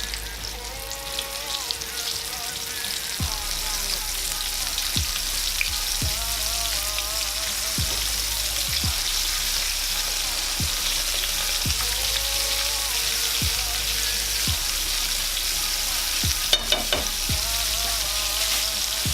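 Mustard-marinated pork chops fry loudly and steadily in a pan, a dense continuous sizzle with regular soft knocks and clatters from the pan.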